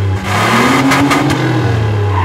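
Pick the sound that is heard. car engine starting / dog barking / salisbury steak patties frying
car engine starting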